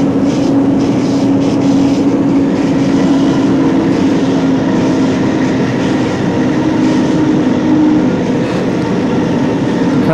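Train rumbling steadily on the approach to Grantham station, a continuous loud rolling drone with a sustained tonal hum and no pauses throughout.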